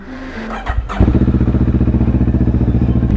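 A motorcycle carrying a passenger on a street in the Philippines, its engine starting up with a short revving burst and then settling into a steady, loud, close rhythmic putter that runs continuously.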